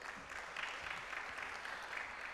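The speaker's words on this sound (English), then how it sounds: "a round of applause for Uganda once more." An audience at a science week event applauding, a continuous soft patter of many hands clapping, steady and somewhat distant for a couple of seconds, with no voices over it.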